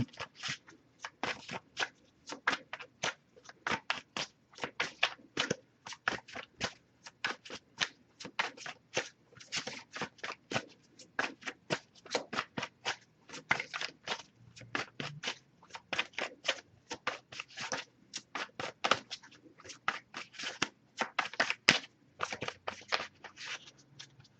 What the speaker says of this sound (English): I'll give it a couple more shuffles